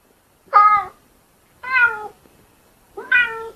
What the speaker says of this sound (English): A cat sounds like this.